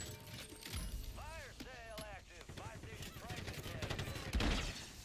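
Video game gunfire crackles in rapid bursts across the moment, with rising whooshing tones and clattering effects, fairly steady and close, mixed with other game sounds.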